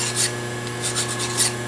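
Rasping strokes of a file taking the burr off a machined metal edge on carriage stop stock, three bursts of scraping close by over a steady low hum.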